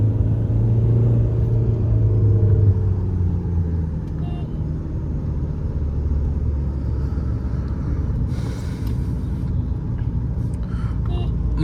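A Mahindra XUV500 SUV engine accelerating heard from inside the cabin, a deep continuous rumble with rising engine tones early on, followed by steady road and engine noise with faint background sounds.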